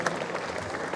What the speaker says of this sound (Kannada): ಜೋರಾಗಿ ಚಪ್ಪಾಳೆ ಹಾಕಿ.